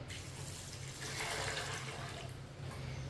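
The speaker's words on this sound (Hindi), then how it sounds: "पानी डाल लेंगे" Water pours into a pot of white chickpeas, a continuous close splashing gush that swells briefly midway, with no talking.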